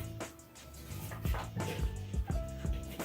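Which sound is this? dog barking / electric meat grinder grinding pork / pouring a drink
dog barking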